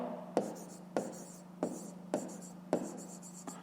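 Pen writing by hand on paper while a fifth-grade math exercise is worked out: a steady scratchy stroke repeated about six times, each starting with a sharp tap and fading, close and fairly quiet over a faint low hum.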